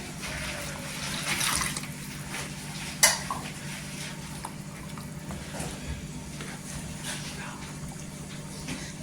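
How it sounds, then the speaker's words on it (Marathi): Hot water is poured into a pan of matar paneer gravy, making a continuous splashing pour that swells and then settles into a steady wash, close by, with a brief clank partway through. "गरम पाणी टाकायचं"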